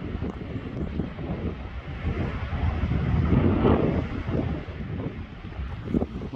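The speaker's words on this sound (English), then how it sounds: "wind's picking up." Wind blows hard on a walking path by Rhiwargor Waterfall at Lake Vyrnwy, a steady roaring rush with gusty swells, close to the microphone and heard on its own.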